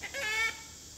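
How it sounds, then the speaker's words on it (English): A startled rooster gives a short, nearby burst of agitated clucking, one squawking call lasting under a second before it drops away. "something has startled my rooster"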